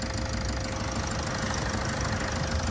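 Diesel engine of a 2017 Toyota Etios GD idling steadily, a dense continuous rumble with faint rhythmic knocking, close and unchanging throughout, no voices.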